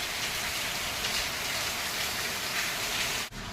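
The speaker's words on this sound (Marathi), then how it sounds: "घरातून बाहेर निघालो आणि बघा जोराचा पाऊस आला" Steady, dense downpour of heavy rain hissing continuously throughout, loud and close, with a brief dip near the end.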